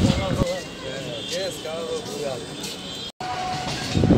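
A crowded local train from Ranaghat rumbles with a steady broadband roar and rattle, while a voice talks over it. The noise drops out for a moment near the end.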